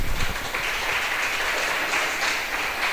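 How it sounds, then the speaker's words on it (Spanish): A church audience at a talk on praying with Scripture bursts into steady, dense applause, a continuous wash of clapping sustained at even loudness for the whole stretch with no voices over it. "Un aplauso para Jesús."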